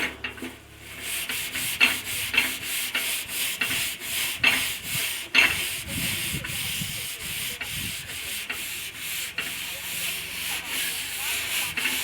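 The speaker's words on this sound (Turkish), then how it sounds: "kazanımı ben güzelce sürttüm" A cooking pot is scrubbed clean by hand, rubbed with soil, giving steady rasping, gritty strokes in a continuous rhythm at close range, with faint background voices now and then.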